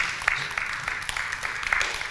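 Audience applause for actors after a film screening at a health talk: a soft, fairly distant patter of clapping hands that holds steady throughout, with no voices on top.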